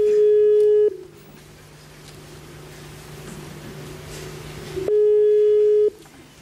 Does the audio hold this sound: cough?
no